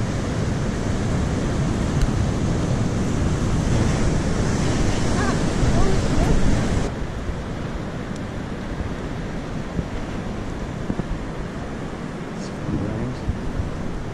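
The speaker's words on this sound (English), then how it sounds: "we nearly just got soaked then by the waves" Ocean waves crash on the shore in Lisbon, a loud, continuous roar of surf with wind buffeting the microphone; the rush is heaviest early on, then settles into a steadier wash of breaking water.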